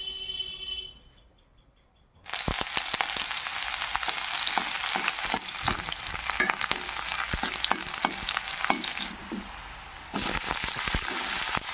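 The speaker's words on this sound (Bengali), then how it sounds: "এদিকে আমি কড়াইতে তেল গরমে বসিয়ে দিয়েছি।" Hot oil sizzles loudly in a kadai while small fish cook, a dense crackling hiss with sharp pops and spatters that starts abruptly after a quiet moment and continues steadily, close and with no talking.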